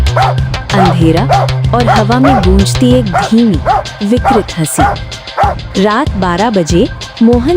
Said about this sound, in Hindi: सिर्फ कुत्ते भौंक रहे थे।